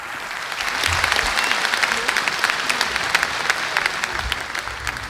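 An audience claps for the Prime Minister at a birth centenary function, steady sustained applause with sharp individual claps, swelling in after a quiet start and continuing evenly throughout.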